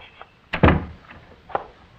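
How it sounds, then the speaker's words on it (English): A single solid thud of a door shutting, close by, with a faint rattle just before and a smaller knock shortly after. "Lige, you better come in and shut the door."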